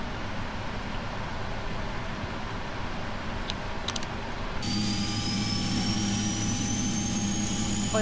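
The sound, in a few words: jet engine 2 starting, PMDG 777 in FSX flight simulator video game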